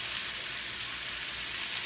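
Chicken cutlets frying in a pan that heats unevenly, a steady close sizzle and crackle of hot oil with no talking.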